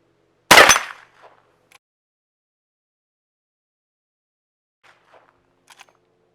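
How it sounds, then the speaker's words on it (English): A Henry Big Boy lever-action rifle fires one sharp, loud shot, followed a few seconds later by a handful of faint mechanical clicks and clacks, with no talking. "I think I'm going to put a few rounds through the Henry Big Boy here before we hang her up on the wall."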